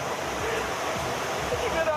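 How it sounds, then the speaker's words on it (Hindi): Floodwater rushing between houses after heavy rain in Germany, a broad, steady wash of churning water, loud and continuous, with a voice speaking over it. "घरों के बीच से पानी की तेज धार बह रही है।"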